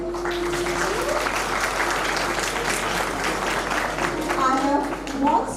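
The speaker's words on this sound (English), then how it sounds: "Please put your hands together and welcome our graduates with claps and cheers" Audience applause and cheers welcoming graduates at a CBSE school valedictory ceremony, a dense steady clapping wash running throughout with a voice speaking over it near the end.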